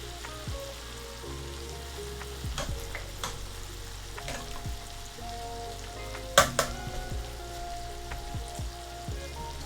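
White wine cooking off in a hot pan for shrimp scampi, a steady close sizzle and crackle with occasional stirring clatter and one sharp knock.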